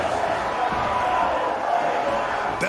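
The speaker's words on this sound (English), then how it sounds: "The crowd can't get enough of the carnage" A crowd roars steadily at a wrestling match in the Saints Row: The Third video game, a dense continuous cheer filling the arena, with a sharp impact near the end.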